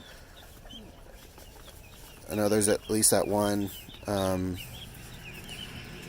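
Chickens and roosters in a coop give several loud bursts of clucking and squawking, clustered in the middle of the stretch over a quiet outdoor background, with a person speaking briefly.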